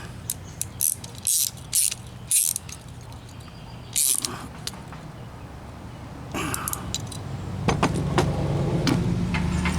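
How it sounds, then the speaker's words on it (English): A ratchet wrench tightens a fitting on an onboard air compressor manifold in short bursts of rapid, close clicking, followed by quieter handling and metallic fiddling. "Take my ratchet. Make it go the right way."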